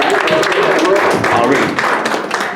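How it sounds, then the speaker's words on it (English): Audience applause at an open mic night, dense steady clapping from a sizable crowd, fairly loud and continuous throughout with some voices mixed in. "Can we get a round of applause?"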